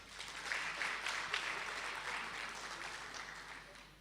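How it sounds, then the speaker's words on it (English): Audience applause for the Premier at an economic roundtable event, a faint, dense patter of many hands clapping that swells early and then slowly tapers off, heard alone in a large room. "Can we give the Premier another round of applause?"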